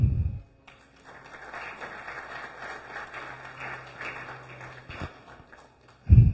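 An event audience applauds steadily for several seconds to welcome a guest at a FIHNEC Golden Chapter gathering in Guatemala, with a dense patter of clapping and a couple of louder low bumps at the start and end.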